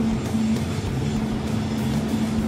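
A Suzuki Alto HA36S fitted with a BLITZ bolt-on turbo accelerates, giving a steady, loud engine drone that holds through the whole stretch with no pauses, heard from inside the car with no talk.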